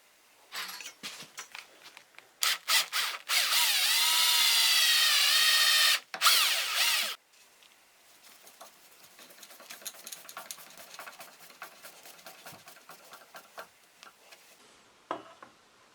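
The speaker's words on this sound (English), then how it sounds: "I drill a guide hole for the screw" A power drill boring a guide hole for a screw in wood, with short bursts as the bit bites, then a steady loud whine for several seconds, followed by quieter clicks and handling taps.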